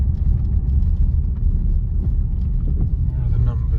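A car driving along an airfield toward the runway 02 threshold at Davidstow Moor, a steady loud low engine and road rumble from inside the cabin, with a person talking over it.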